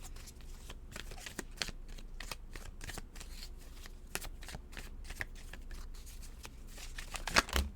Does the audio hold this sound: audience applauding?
no